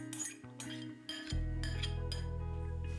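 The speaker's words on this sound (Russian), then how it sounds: "Когда масло растопилось, высыпаем на сковороду промытый булгур." Washed bulgur poured into a frying pan of melted butter: a short clink of utensils, then a loud, steady sizzle as the grains hit the hot pan, close and with no talk.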